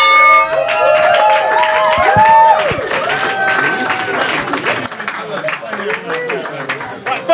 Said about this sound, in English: big round of applause for all your finalists